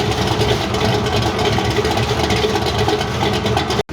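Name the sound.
1965 El Camino 400 small block engine idling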